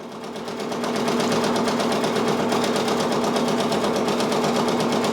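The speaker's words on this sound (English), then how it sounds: "I'm gonna let you guys just watch it as it stitches" A Brother Persona PRS 100 embroidery machine stitches a design with a fast, even mechanical rattle and hum that builds up quickly then holds steady, close and loud, with no talking.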